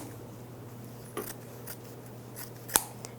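Scissors snipping off the small excess tip of jeans fabric while finishing an original-style hem, a few quiet crisp cuts, then one sharper snip, against a steady low hum.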